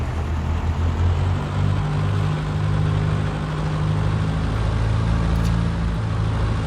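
A light aircraft engine run-up in the X-Plane flight simulator, a steady droning piston engine hum held at constant power without any voices.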